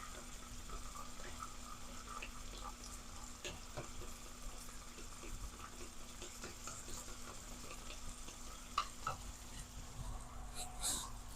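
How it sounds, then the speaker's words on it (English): Tomatoes frying in a pan for a bean stew as they are stirred and broken into chunks, a faint, quiet sizzle with soft scraping, a steady hum and a few small clinks. "I'm adding tomatoes, just fry them"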